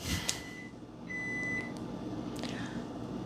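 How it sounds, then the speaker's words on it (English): A microwave oven beeps in a home, one clear sustained tone followed by fainter short beeps over a quiet room background. "That's the microwave noise"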